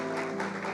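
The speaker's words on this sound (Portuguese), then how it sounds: "Uma salva de palmas para eles." Church congregation applauding during a service, a brief, fairly faint burst of steady clapping from many hands.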